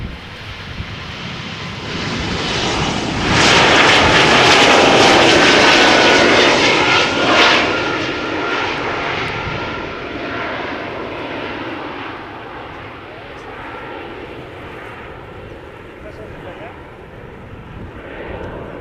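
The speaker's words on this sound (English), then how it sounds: "We've got two big jets coming this way." Two large jets, an Airbus A330neo and a Chinese Boeing 777, approach Schiphol, a loud broad roar swelling to a peak then slowly fading, with voices talking over it.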